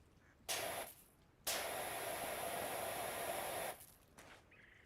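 A pressure washer sprays in the video game PowerWash Simulator 2, with a brief hissing burst followed by a longer, steady spray of about two seconds, fairly quiet with no talk.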